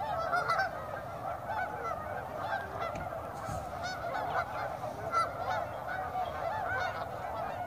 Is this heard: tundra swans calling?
yes